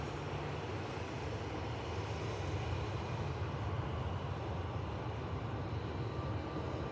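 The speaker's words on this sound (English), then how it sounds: "Here goes the 321 of EasyJet." EasyJet Airbus A321 airliner at Manchester Airport, a steady broadband engine roar with heavy low rumble holding at a constant level throughout, no voices.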